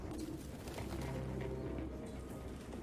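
Pigeons coo softly in a game setting from Detroit: Become Human, low repeated calls set against a steady ambient background hum, with no talking.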